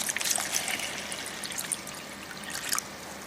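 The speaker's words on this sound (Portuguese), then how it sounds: "Vamos então nesse pote colocar a água." Water is poured into a jar, making a soft continuous trickle with light splashes and drips, fairly close and quiet, with no talking.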